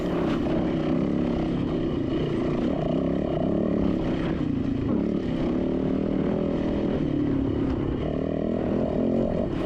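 A dirt bike races through a hare and hound course, its engine droning steadily and loudly at close range without a break, with no talk over it.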